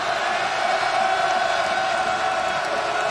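A sellout basketball arena crowd at South Carolina fills the space with a steady, distant wash of cheering and murmuring, sustained without distinct peaks.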